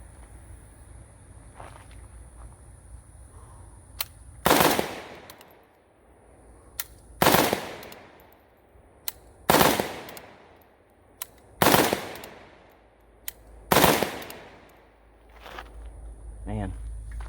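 An AK rifle fitted with a Trijicon SRO red dot fires five loud, evenly spaced shots at a 15-yard target, about two seconds apart. Each shot cracks sharply and rings off, with quiet ambient noise between shots.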